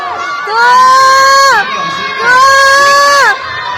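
A crowd of voices shouts together in two long sustained bursts, loud and close, with a brief dip between them.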